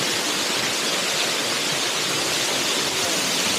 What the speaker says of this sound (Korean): 뒤에 뱀풍 폭포가 너무 멋있다